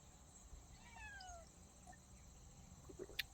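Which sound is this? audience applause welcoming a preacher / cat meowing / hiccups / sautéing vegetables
cat meowing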